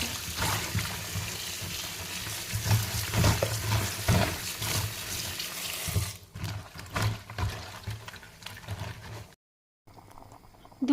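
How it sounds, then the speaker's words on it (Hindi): Pasta boiling in a pot of water on a kitchen stove, a steady bubbling and watery churn that runs loud and continuous, then thins out and drops away near the end. "दूसरी तरफ पास्ता बॉईल हो रहा है"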